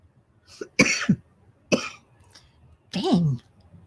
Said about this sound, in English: I got to stop this coughing.